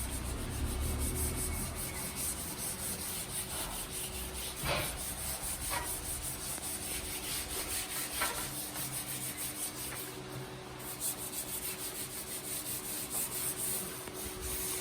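Dried concrete slurry being rubbed off a concrete worktop after filling holes, a continuous close abrasive scrubbing and rasping with rhythmic strokes and a few sharper scrapes, fairly quiet and steady.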